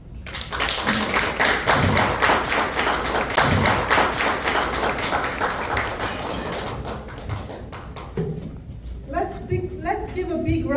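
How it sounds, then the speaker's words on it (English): An audience at a Nigerian community youth leadership summit in Canada claps steadily and loudly for about eight seconds after a young speaker's talk; the applause thins out and someone begins speaking over the last few seconds. "Let's give a big round of applause to Daniel."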